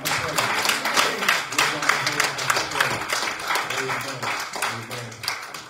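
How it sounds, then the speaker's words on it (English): Church congregation clapping hands together in steady rhythmic time during a Sunday morning service, loud and close, a dense crowd of claps with voices calling out beneath them. "Give God a hand clap"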